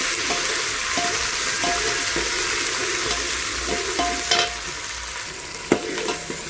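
Onion tempering with bay leaf and star anise sizzles in a pan for Kolhapuri chicken sukka, a loud continuous hiss close up, broken by a few sharp scraping stirs of a spatula toward the end.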